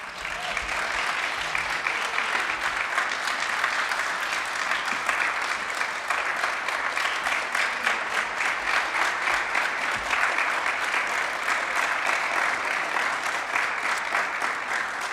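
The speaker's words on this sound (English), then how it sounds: "I'm wondering if you'd be willing to give some gratitude and some love to Rev Terasa for the work that she's done this year." A long, steady round of church audience applause, dense clapping from many hands at an even level throughout, with no voices standing out.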